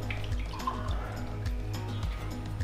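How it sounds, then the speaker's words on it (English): Water is poured steadily into a heated pot for mutton dum biryani, a continuous splashing trickle close by over a low, throbbing background hum. "I'm gonna add about 6 cups of water."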